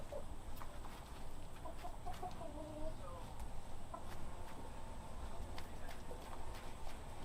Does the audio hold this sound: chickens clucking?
yes